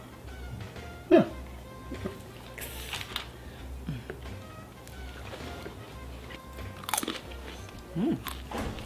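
Crunchy fries being bitten and chewed close up, with a few sharp crunches and softer chewing between them, plus quiet background sounds.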